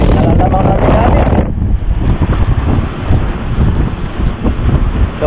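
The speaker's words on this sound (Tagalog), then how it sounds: "Kung talagang lakas na impact ng hangin." Strong typhoon wind at a pier, heavy buffeting that roars loudly against the microphone, easing slightly after the first second but staying a dense, continuous blast with surging gusts and no talk.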